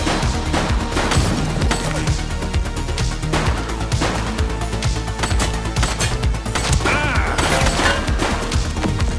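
Gunfire in The Precinct, a police video game: rapid, dense cracks and impacts layered over a loud, busy soundtrack, continuous for the whole stretch.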